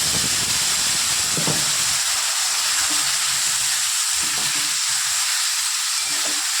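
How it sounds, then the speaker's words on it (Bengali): Ground spice masala being sautéed in a pan with a splash of water for a rohu fish curry with potatoes and flat beans, a loud, continuous close hiss and sizzle with steam, plus faint intermittent stirring knocks underneath. "মশলাটা কষানোর জন্য সামান্য পরিমাণ একটু জল ব্যবহার করবো"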